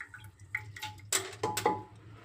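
Washed dal goes into a pressure cooker pot with close wet knocks, drips and a few sharper metallic clatters in quick succession.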